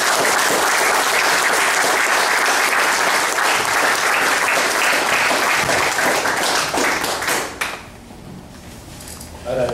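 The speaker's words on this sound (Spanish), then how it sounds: "Solicito, pues, un aplauso para el autor de Grama Arisca." An audience applauds the author at a book presentation for a collection of stories, a dense, loud burst of many hands clapping that carries on for several seconds before dropping away into quiet room noise.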